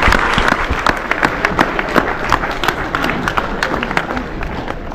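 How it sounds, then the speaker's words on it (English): An audience of soldiers and families at a US Army gathering claps in a sustained round of applause, dense and steady with some cheering mixed in. "Let's give yourselves a round of applause."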